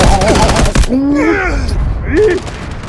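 Rapid burst of light machine gun fire emptying a magazine in Delta Force, a quick volley of shots in the opening second, then a voice reacting loudly over game sounds.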